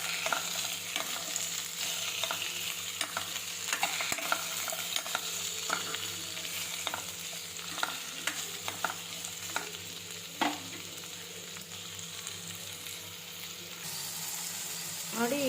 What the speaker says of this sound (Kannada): ನೋಡಿ, ಈಗ ಇದು ಫ್ರೈ ಆಗಿದೆ